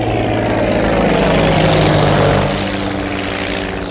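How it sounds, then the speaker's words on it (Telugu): A small private propeller airplane drones steadily with a loud, close engine and airscrew hum that eases slightly toward the end, heard alone without voices. "ఏదేమైనా ఫస్ట్ టైం ప్రైవేట్ ఫ్లైట్ ఎక్కినందుకు చాలా హ్యాపీగా ఉందిరా"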